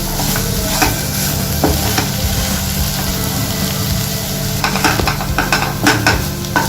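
Mutton chukka stirs and fries in a pan, giving a steady loud sizzle with scraping spoon strokes and light clinks against the pan throughout.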